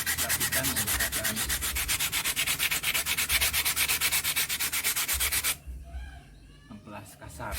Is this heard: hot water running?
no